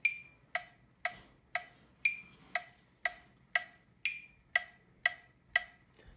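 A steady beat at a constant tempo sounds as twelve crisp, evenly spaced ticks, about two per second, each one bright and sharp and fading quickly, with nothing else playing underneath.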